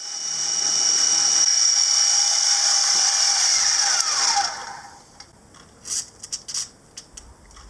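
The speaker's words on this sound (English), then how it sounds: "We'll start with the centre drill, and we'll just make a light mark" A centre drill cutting a light starting mark into a steel side plate for a knurling tool, a sustained high whine with a steady mechanical hum that winds down after a few seconds, followed by brief faint clicks.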